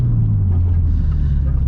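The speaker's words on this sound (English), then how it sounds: "don't mind those downshifts" An Infiniti G35 coupe engine downshifting on the road, a loud, steady low rumble with a brief rise in revs, heard close from inside the car.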